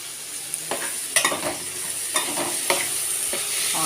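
Freedom brand oil heating in a pan on a stove, giving a steady close hiss and sizzle with a few sharp clinks and scrapes of stirring scattered through, no voices.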